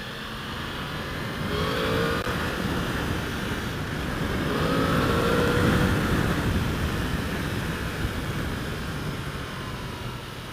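A 2016 Yamaha R1S motorcycle engine drones steadily while riding on the road, a loud continuous roar mixed with wind rush, rising and easing slightly in pitch with no speech.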